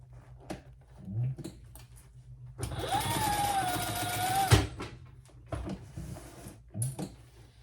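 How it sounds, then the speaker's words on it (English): Sewing machine running a basting stitch on a handbag: one continuous whirring run of about two seconds, close by, between quieter handling clicks and rustles. "I'm just doing a real simple basting stitch, just so they don't move when I sew the bag together"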